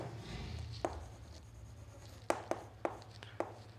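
Marker or chalk writing on a board during a physics lesson, soft scraping strokes broken by several sharp taps, close and moderately quiet over a low hum with no talk.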